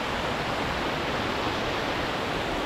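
Waterfall on a Lake District mountain scramble up Jack's Rake on Pavey Ark, a steady broadband rush of falling water, close and constant, with no talking.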